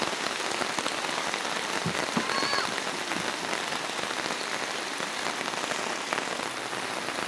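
Steady, dense heavy rain pours down continuously, a loud broadband hiss with scattered drops and a few faint bird chirps in the background.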